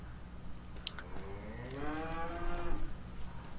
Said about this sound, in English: It's a cow, don't shoot the cow.